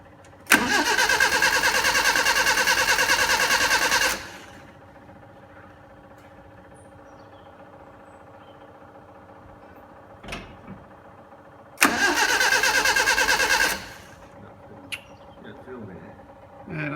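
A Mini Marcos on a cold day gives two long bursts of engine cranking, loud and close, separated by a quiet stretch with faint knocks.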